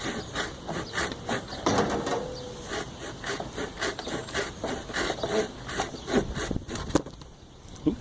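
A Coleman camp saw cuts through a piece of fat wood about an inch across, a pull-stroke blade giving rough, irregular rasping strokes at close range with no talking.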